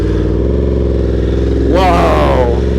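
A Yamaha R1M sport motorcycle fitted with a new exhaust idles with a loud, throbbing rumble, then blips its throttle once in a short rising rev before settling back, heard up close.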